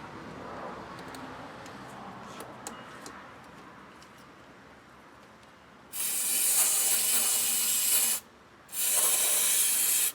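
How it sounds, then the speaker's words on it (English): Two loud bursts of aerosol sensor cleaner hissing close by into a 1999 Toyota Tacoma's mass airflow sensor housing, the first about two seconds long, a brief pause, then a second burst, after quiet background noise. "I'm going to just spray some of this sensor cleaner in here."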